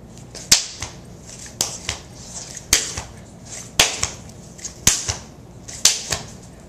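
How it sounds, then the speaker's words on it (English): Sharp single and double hand claps ring out during explosive clap push-ups, about seven crisp, close, loud snaps spaced roughly a second apart, each followed by a softer landing thud. "push up as hard as you can and just throw a clap in there, or two claps if you can"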